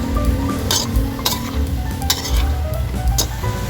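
Squash, string beans and shrimp in coconut milk, just seasoned with pepper, get stirred in a pot, with repeated scraping and clinking of a utensil against the pan over a soft simmering sizzle, close and fairly loud with no talking.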